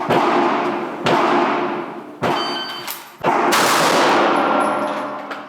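Two pistol shots fired on a shooting range, sharp loud cracks about a second apart with ringing decay, followed by more bangs and metallic clangs.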